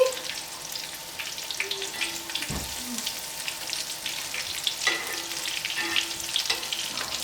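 Chicken pieces sizzle in a pan while browning for buffalo chicken mac and cheese, a steady soft frying crackle with a few brief clinks and scrapes over it and no voices.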